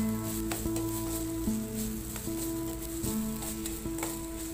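Gooseberry rice ingredients sautéing in a pan until the raw smell is gone, giving a steady low sizzle with a faint background hum and occasional soft stirring clicks.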